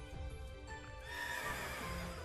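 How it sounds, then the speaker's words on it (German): A horse neighs in the Pokémon Shield video game, a loud whinny rising over a steady game soundtrack, with faint hoof clip-clops nearby. "da ist das Pferd."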